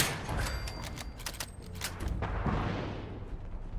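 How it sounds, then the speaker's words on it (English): Distant gunfire in the Fallout 4 video game, a few muffled shots and booms rolling in from far off over steady background ambience, with no talking. "I think that's the gunfire"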